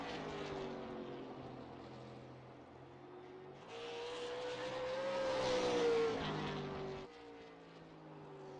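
Austin Edwards' super late model race car finishing a qualifying hot lap, engine note swelling as it approaches, peaking in a rising whine, then cutting back, heard from a distance as a steady drone.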